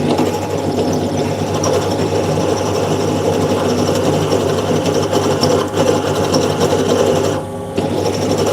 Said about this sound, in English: I don't want my stream to be just me drilling this friggin' hole though